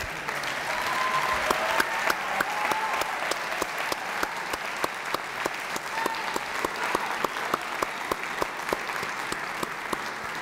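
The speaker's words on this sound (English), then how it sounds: "A round of applause for our two winners, Thabiso Mfana, Willem de Beer." A hall audience applauds the two winners of a national piano competition at the final-round award ceremony, a steady, dense wash of many hands clapping with a few sharper individual claps standing out, sustained throughout without speech.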